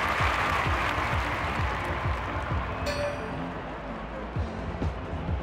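Crowd applause at an Olympic long jump final in a London 2012 video game, steady clapping from a large stadium crowd with rhythmic claps pulsing through, a brief bright ping partway in.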